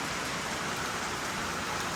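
Rain falls outdoors as a steady, dense hiss of drops with no pauses, and no voices or other sounds break through.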